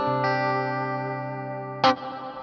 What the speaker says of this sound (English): Really nice reverb sound,